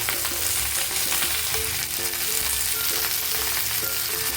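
Potatoes and okra fry in a pan while being stirred, a loud, steady sizzle with a scraping spoon rhythm running through it and no talking.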